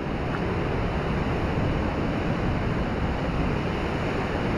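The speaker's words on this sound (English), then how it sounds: "Big waves." Ocean surf breaking on a beach during surf perch fishing: a steady, loud roar of waves washing ashore mixed with gusty wind buffeting the microphone, continuous throughout with no talk.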